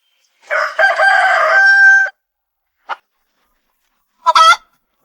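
A rooster crows loudly once, a long harmonic call, followed by two short squawks after pauses.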